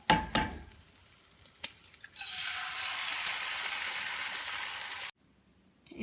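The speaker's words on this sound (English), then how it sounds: "now I'm just going to crack a couple eggs right in the middle and let those cook for a few minutes." Eggs sizzling in a frying pan beside crisped potatoes give a steady bright hiss for a few seconds, preceded by a couple of sharp clunks and cut off abruptly near the end.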